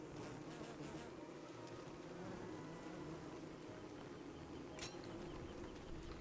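Bees buzz steadily around a hive in the video game Don't Starve Together, a dense continuous insect drone at low volume with no talk.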